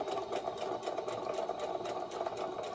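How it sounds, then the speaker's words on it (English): A home sewing machine runs a straight stitch at length 3 while sewing an oversized tee, reversing for a back stitch; its steady whirring motor hum and rapid needle chatter run continuously and close up. "I put my length to 3, and then I start, and I'm going to back stitch, and then I'm going to go down"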